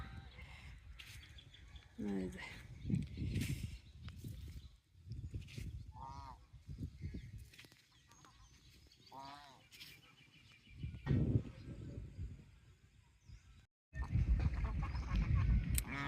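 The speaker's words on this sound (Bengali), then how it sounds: "এই রাজহাঁসগুলো সারাদিন এইখানে থেকে সারা রাত্রেও থেকে যায়" Domestic geese on a foggy, cold village pond honk on and off in repeated nasal calls. They sound at moderate distance over steady outdoor background noise, with people talking and a louder stretch near the end.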